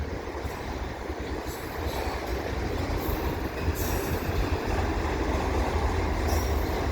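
A CP freight train of empty cars rolls past at Dorval, a steady, loud wheel-and-car rumble filling the whole stretch, with faint high squeals from the wheels now and then.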